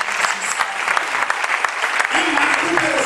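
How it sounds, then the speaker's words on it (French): Congregation applauding to acclaim the Lord at a church service, dense steady clapping from many hands throughout, growing slightly fuller toward the end. "On acclame le Seigneur."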